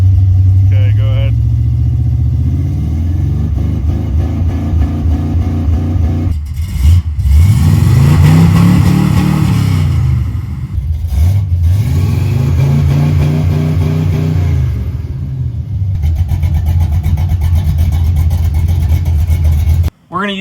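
A car engine idles, then revs up and falls back twice as it hits a homemade rev limiter set with a potentiometer, loud and close, with a voice talking briefly over it.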